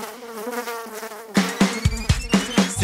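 A fly buzzes close and steadily with a wavering whine, then sharp percussive beats cut in over it.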